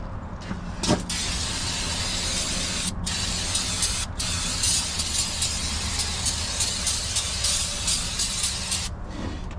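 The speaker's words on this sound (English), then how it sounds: "Let's get some brake clean." Brake cleaner aerosol hisses in long, loud, close bursts around the engine bay of a 1948 Pontiac straight eight, broken by a few brief pauses between sprays.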